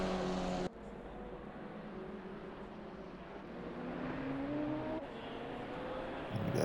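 Race cars circling a Barcelona track in Assetto Corsa Competizione, with a steady engine drone and rising and falling engine tones from cars passing at moderate distance, fairly quiet throughout.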